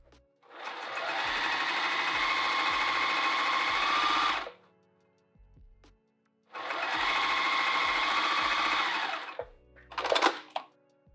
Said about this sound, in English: Let's sew this edge down.